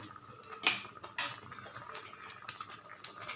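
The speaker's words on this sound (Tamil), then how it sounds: "இப்போ நம்ம வறுத்து வச்சுருக்கிற முந்திரியெல்லாம் இதில் போட்டுடலாம்" Roasted cashews for payasam drop into the pot with a couple of quick metallic clinks and light rattling, near and fairly soft, without talk.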